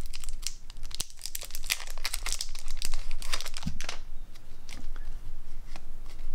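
Crinkly plastic wrap tears and crackles as decks of game cards are unwrapped, a close, busy run of sharp rustles and snaps for several seconds with no talking.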